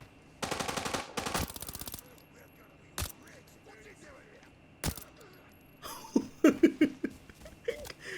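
Gunfire from the video game Arena Breakout, with NPCs shooting: loud bursts of rapid automatic fire in the first two seconds, then isolated sharp single shots, followed by a busier stretch of scattered fire and noise.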